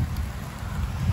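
Sudden rain falling during an outdoor winter barbecue in the UAE, a steady, dense hiss and patter of drops with low rumbling wind noise throughout, no talking.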